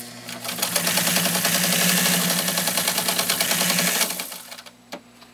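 A 1954 Necchi BF Nova sewing machine stitches through two thick layers of cowhide leather, a loud fast rattling hum that runs steadily for about four seconds, then stops, leaving a single click.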